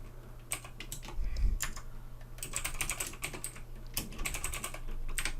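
Subtitles are typed on a computer keyboard in quick bursts of close, crisp key clicks with short pauses between runs, over a faint steady hum.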